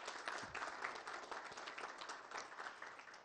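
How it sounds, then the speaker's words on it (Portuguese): Audience at a leadership talk breaks into sustained applause, many hands clapping densely and evenly throughout at a moderate distance. "E uma salva de palmas para vocês que estão preocupados no seu próprio bem-estar, por favor."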